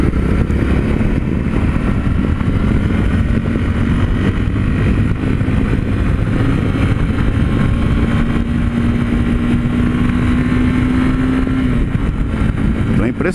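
A Honda Sahara 300 motorcycle on a test ride, its engine climbing through the revs in a steady drone with a rising tone, heavy wind rush over the microphone throughout.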